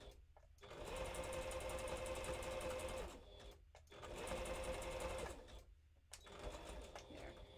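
A sewing machine stitches a seam on a floor-dragger dragon tail costume piece, running in two steady whirring bursts with a brief pause between them and a shorter start near the end, close and fairly loud.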